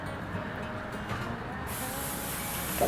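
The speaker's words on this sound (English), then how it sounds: "I'm going to spray that and let it set" Hairspray from an aerosol can misted onto freshly curled hair in a 1960s-style half-up poodle set, a steady close hiss that swells sharply louder partway through and continues without talk.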